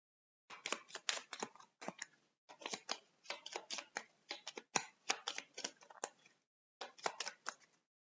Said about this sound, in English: we're going to shuffle these cards back in